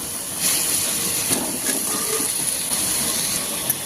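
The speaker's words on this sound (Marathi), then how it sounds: "आता भाजीमध्ये बटाटे फ्लावर घालून घेऊया" Potatoes and cauliflower go into a hot black-masala curry in a village-style kitchen, giving a steady bright sizzling hiss with a few soft knocks and shuffles.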